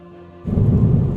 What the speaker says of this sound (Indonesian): suara hujan yang begitu kencang menerjang atap rumahku.